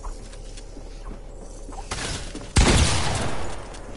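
Video game gunfire: a loud blast of shooting at the midpoint following a softer burst, over steady game noise, with excited voices nearby.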